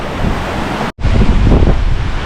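A rapid, crystal-clear mountain stream at the Fairy Pools on the Isle of Skye in autumn, swollen by overnight rain. It makes a loud, close, continuous roar of rushing water, with one brief dropout partway through.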